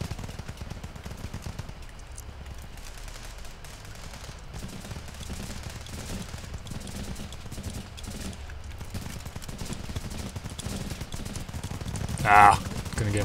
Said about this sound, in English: the key to using the M16 is using its goddamn burst fire